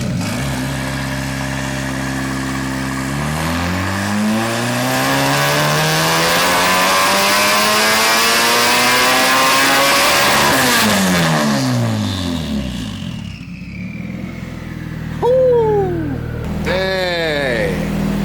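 A K24-swapped Nissan 240SX revs hard during a burnout, the engine note climbing and holding at a loud, close scream before it falls back to idle, followed by a couple of sharp blips while people talk.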